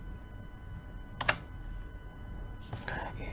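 A computer keyboard is tapped with a couple of quick, separate keystrokes over a steady background hum.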